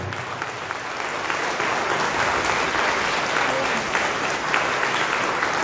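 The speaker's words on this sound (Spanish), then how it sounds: "Fuerte tus palmas para el Señor, hermano" A church congregation claps loudly for the Lord, a dense, steady wash of applause holding at full strength throughout, close and continuous.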